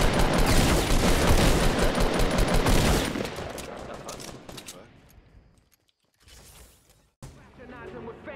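Rapid video game gunfire, a dense loud burst of automatic shots for about three seconds, then fading into sparser mechanical clatter and brief pauses.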